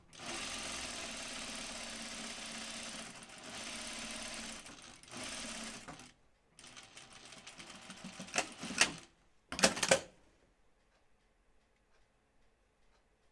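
A sewing machine stitches a hem on a V-neck garment, a fast steady mechanical whir and tick for about six seconds, then short bursts before stopping into near silence.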